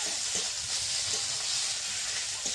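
Ginger frying in hot oil while being stirred: a continuous bright sizzle throughout, with soft scraping stirs now and then, close and steady, no talking.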